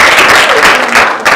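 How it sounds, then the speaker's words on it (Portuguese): Loud, dense audience applause at a communication conference, filling the room as a continuous roar of clapping without voices. "Um aplauso,"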